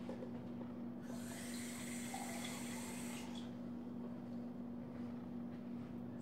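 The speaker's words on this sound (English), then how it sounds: "And then I add water." A faint, steady stream of water pours into a cup of magnesium powder for a couple of seconds over a low constant hum, then fades to quiet background noise.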